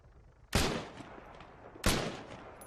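Two sharp, loud Mk-1 EMR rifle shots ring out about a second apart in Arma 3, each cracking hard and then trailing off in a short echoing decay, with no voices.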